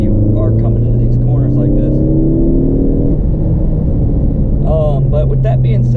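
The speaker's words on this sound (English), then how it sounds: "you guys can still hear the blow-up valve and the turbo spooling up as I'm driving like this" A 2015 Ford Focus ST driven on the road, with steady engine and turbo whir, a rising spool, and a brief chattering blow-off burst near the end, loud and close inside the cabin.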